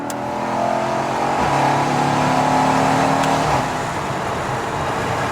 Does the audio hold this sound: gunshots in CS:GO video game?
no